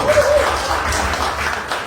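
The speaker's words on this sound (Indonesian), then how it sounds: "Tepuk tangan dulu untuk kita semua." Audience applause at a company gathering, a dense spread of clapping that stays fairly steady and loud for a short stretch.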